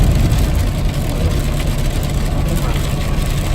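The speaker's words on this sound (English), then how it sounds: "We'll barely tap the brakes and downshift into 5th." A truck engine drones loud and close as it downshifts into fifth gear under light braking, a steady low rumble with no clear talk over it.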